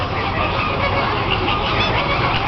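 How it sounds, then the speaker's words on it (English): A flock of geese at Busch Gardens honks in a loud, continuous clamour nearby, many overlapping calls with no clear gaps. "you see the birds?"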